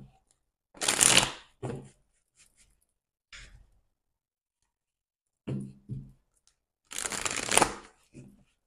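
Oracle cards being shuffled up close in two loud bursts of riffling flutter, separated by a few short taps and soft handling sounds, with quiet gaps between.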